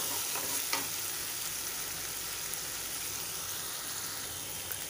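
Green chili thecha sautéing in a pan for a Nashik pav vada filling, a steady close sizzle with soft stirring scrapes running throughout and no talk.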